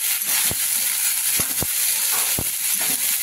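Bottle gourd pieces sauté in a hot pan, giving a steady bright sizzle close by. A few sharp clicks and taps from stirring break through the sizzle. There are no voices.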